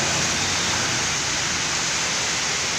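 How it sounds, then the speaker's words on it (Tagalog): Heavy rain pours down in Consolacion, Cebu, a dense, even hiss of falling water that stays constant and fairly loud for the whole moment, with no voices. "Malakas ng ulan ang nagaganap ngayon sa lungsod sa Konsolasyon, Cebu."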